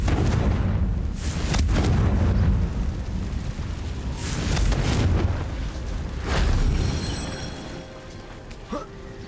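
Confringo fire spell blasts in the video game Hogwarts Legacy, loud booming bursts that swell and fade several times amid a dense, rumbling battle soundscape.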